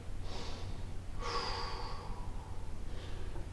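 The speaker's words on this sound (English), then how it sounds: "Couple of breaths." Slow, deep breaths during a stretching exercise: a few audible inhales and exhales, close and soft, with quiet pauses between them.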